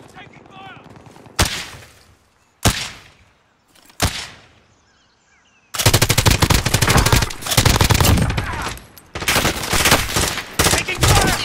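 Gunfire in a shooter video game: three separate loud single shots, then long dense bursts of rapid automatic fire with brief gaps, with voices talking faintly underneath.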